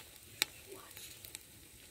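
Mutton fat sizzling as the meat braises in a pot over an open fire, a quiet close crackle with one sharp click and faint stirring sounds.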